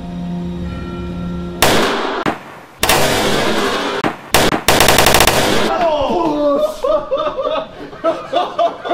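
Rare firearms fire loud, sharp gunshots and a rapid burst close by, after which people chuckle and laugh in short bursts.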